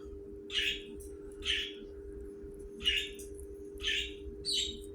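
Pet birds chirping in bursts from another room, five short bright calls spaced about a second apart over a steady low hum, no talking.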